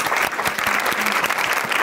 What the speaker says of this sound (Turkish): Bir alkış alalım Demet Hanım için